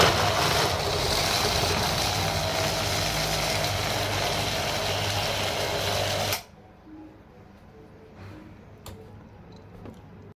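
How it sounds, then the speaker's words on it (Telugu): A mixer grinder whirs loudly and steadily while grinding a cooled coriander and tomato chutney in its jar, then cuts off abruptly, leaving quieter clinks and handling sounds. "దీన్ని మిక్సీ జార్లో వేసుకొని మిక్సీ చేసేసుకోవడము"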